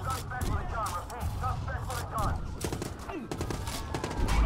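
Gunfire in the Watch Dogs video game, scattered shots and short bursts popping close and loud amid game effects, with voices talking over parts of it.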